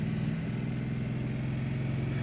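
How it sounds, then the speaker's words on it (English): A steady, low Triumph Street Twin motorcycle engine rumble drones throughout while cornering, with a continuous exhaust burble and no break in the noise. "Nice burble, nice rumble of the exhaust as you're cruising through that corner."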